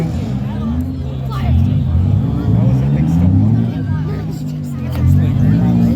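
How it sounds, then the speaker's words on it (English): A demolition derby car's motor revving in an arena, a heavy low engine drone rising and falling under a commentator's steady talk and crowd noise. "Getting the motor going, but nothing going to those wheels."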